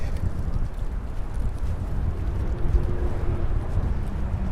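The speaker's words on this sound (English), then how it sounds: "Super windy day today. Gusty, I should say." Gusty wind buffeting a microphone outdoors in Manhattan on a December day, a dense low roar of steady rumbling noise with slight swells, loud and continuous throughout.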